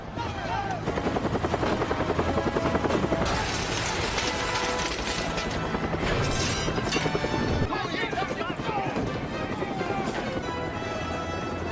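A helicopter's rapid rotor thumping fills the scene, loud and steady throughout, with mechanical whine and clatter layered on top.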